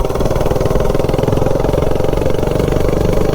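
A minibike engine fitted with a 5-foot intake pipe, heard while riding: a loud, close, steady pulsing engine drone with rapid firing beats throughout.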